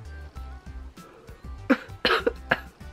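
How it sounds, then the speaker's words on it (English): Coughing after vaping e-liquid, a few short throat-clearing coughs followed by a louder burst of harsh coughs, close and fairly quiet. "the only reason I'm coughing is because that's a lot of nick"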